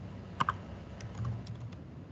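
Keystrokes on a computer keyboard while a database command is typed, a quick double tap near the start followed by scattered lighter presses, close and fairly quiet over a low room hum.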